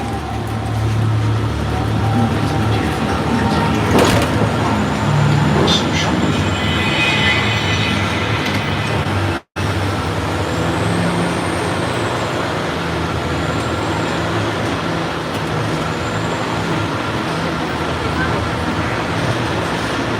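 The Universal Studios Hollywood tram heading into the Skull Island ride rolls along with a loud steady engine and road rumble, and a rider-safety announcement plays over it, followed by a brief dropout and a continued rushing drone.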